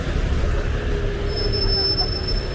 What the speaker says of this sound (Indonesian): Asik nih, Skywell 6H, bus listrik juga.